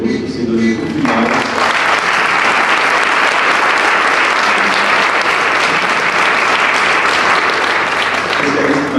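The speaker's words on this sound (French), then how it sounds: "Je veux remercier tout particulièrement et faire applaudir ici Aurore Deligny et Ocadio" Conference audience at the opening of an integrative health colloquium breaking into loud, sustained applause, dense clapping that follows a voice at the start and carries on for several seconds.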